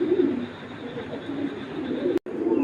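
Foreign pigeons coo in low, rolling, repeated calls close by, continuing throughout with only a brief break near the end.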